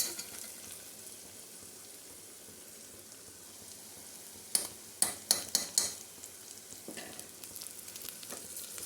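Ginger garlic paste frying in a pan for a drumstick, brinjal and potato curry, a steady soft sizzle with a few sharp clinks of a utensil stirring against the pan midway.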